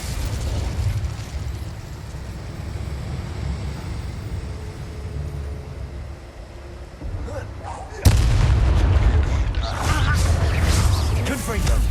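Confringo fire spell explosions in Hogwarts Legacy go off over steady combat noise, with one sharp loud blast at about the eight-second mark followed by heavier rumbling bursts, while a voice speaks during the fight.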